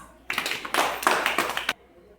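Children in a classroom clap together in a quick burst of about a second and a half, a dense close patter of many hands, briefly preceded by a faint voice.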